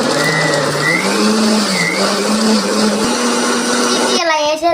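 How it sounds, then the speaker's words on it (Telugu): A mixer grinder blends watermelon pulp with milk and sugar, giving a loud, steady motor whir that holds a constant pitch for several seconds before stopping near the end. "ఇప్పుడు మిక్సీ వేసుకోవాలా"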